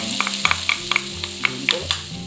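Sliced carrots stirred and fried in rendered bacon fat in a pan, with a steady sizzle and repeated light scraping and tapping of a utensil close by, no voices.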